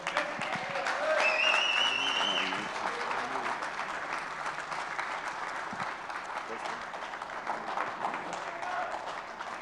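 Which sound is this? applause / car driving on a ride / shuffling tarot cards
applause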